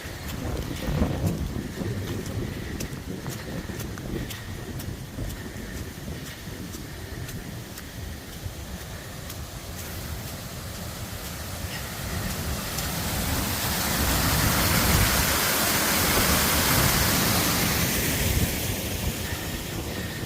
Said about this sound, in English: You can hear the water all night as well when you're laying in bed.